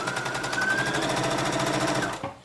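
Sewing machine stitching a woven shirt dress, a fast, even, close mechanical rattle of stitches running continuously before stopping abruptly near the end.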